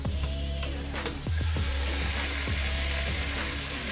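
Oxtail sizzles loudly in a hot pot, a steady frying hiss with clattering stirring sounds and scrapes throughout.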